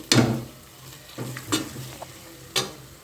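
Masala with curd stirred in a pan for egg biryani, giving a few separate scraping strokes over a soft sizzle, close and fairly quiet, with no voices.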